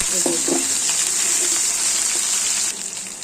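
Onions and chilies sizzling in hot oil as ginger and garlic go in for khichuri, a loud continuous frying hiss with a few short stirring scrapes near the start.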